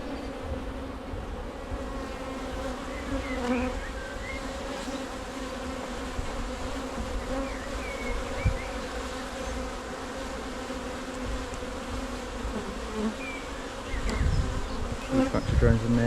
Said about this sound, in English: There's a bunch of drones in there. I mean, this is, given there are lots of flying bees out as well.